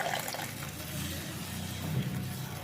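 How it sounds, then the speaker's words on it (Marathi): Water is poured into a simmering potato and cauliflower curry in a pan, making a steady rushing, splashy wash that runs unbroken at close range and drowns out any other kitchen noise. "मी इथं जवळपास दीड वाटी पाणी घातलेलं आहे"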